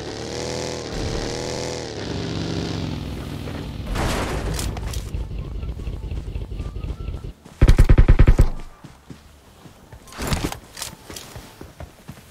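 A grenade goes off in PUBG Mobile as a loud, sudden blast about a second long amid ongoing game noise, followed by a quieter burst a couple of seconds later.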